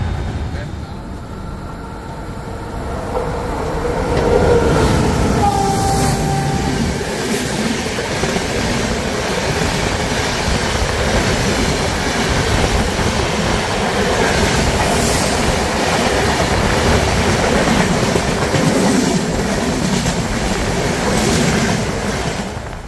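The 12263 Pune–Hazrat Nizamuddin Duronto Express rolls along with a steady rumble and rhythmic clickety-clack of wheels, heard from inside, with a brief wheel squeal early and some voices in the background.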